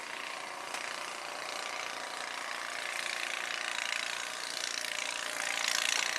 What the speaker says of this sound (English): He got his snow blower going.